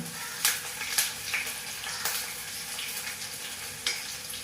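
Chopped onions frying in oil in a pan for a mushroom and potato curry, with a steady close sizzle and a few sharp clatters of a spoon against the pan.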